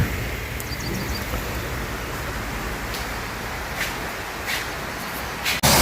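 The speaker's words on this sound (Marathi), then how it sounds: "पाऊस असा कंटिन्यू चालूच आहे बारीक" Light, continuous rain falls steadily during a long downpour near a roadside dhaba in Kolhapur, a dense even hiss throughout with a few brief sharper patters near the end.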